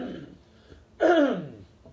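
A man clears his throat once, a loud, close, rasping burst lasting about half a second, with quieter breathy sounds before it.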